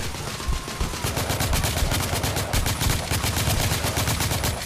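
Gunfire in The Order 1886 rattles in rapid bursts of sharp, loud shots, dense and continuous like a machine gun, close and alone for several seconds.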